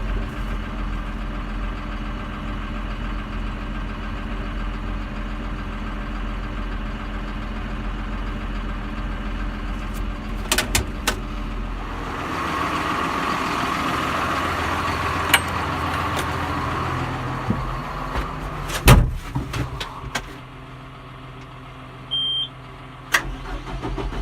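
A tractor's engine idles and runs steadily nearby as the machine backs out, a constant low rumble with a few knocks and clunks over it, and no one talks.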